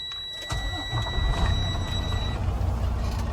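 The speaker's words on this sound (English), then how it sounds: "start your truck, please" A truck engine cranks and catches about half a second in, then settles into a steady low rumble while a thin electronic warning tone sounds inside the cab during a CDL pre-trip inspection.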